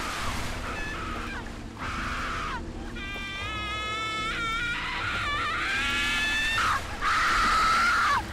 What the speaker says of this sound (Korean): 난 비명소리 들을 때마다 웃겨.